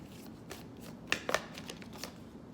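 A Moonology oracle card deck being shuffled by hand, a brief soft riffle with a couple of crisp card slaps near the middle, close and quiet with no talking.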